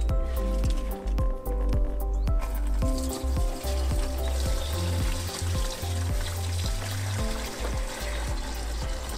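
Cold water being poured into a small motorhome washing machine, a continuous trickling, splashing flow with gurgles and drips, close and steady, over a low hum.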